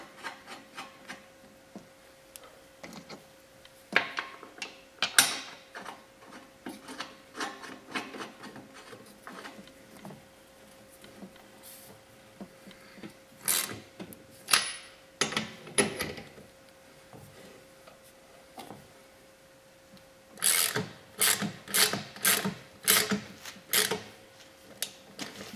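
Lugs are being installed on the bed of a 2023 Polaris Ranger 1000XP. Close, scattered scraping, rubbing and knocking of hard parts comes in irregular bursts with quiet pauses between them, and there is no talking.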